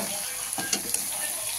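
Food sizzles and fries steadily in a pan with salt and turmeric, a continuous close hiss with a few soft stirring scrapes, no voices.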